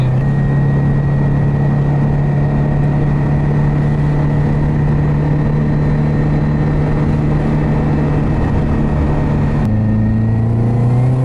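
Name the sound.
tuned Subaru car engine accelerating on road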